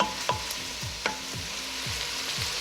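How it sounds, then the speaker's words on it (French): Garlic fries in a pan while being stirred constantly, a close, even sizzle punctuated by about six soft scraping strokes at a regular pace, with no voices. "Vous allez laisser mijoter 1 autre minute, tout en remuant toujours constamment."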